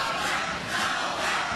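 A sold-out crowd at a wrestling event at Caesars in Atlantic City roars and chants, a dense, steady wall of voices filling a large arena.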